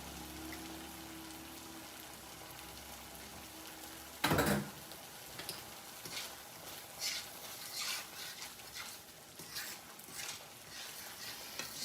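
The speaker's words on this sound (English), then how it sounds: "I have 9 ounces in my pan. So I'm just gonna let that cook a few more minutes." Ground beef chorizo cooking in a pan, a steady soft sizzle with scattered crackles, a sharp clatter partway through, then more stirring and popping, close and fairly quiet with nobody talking.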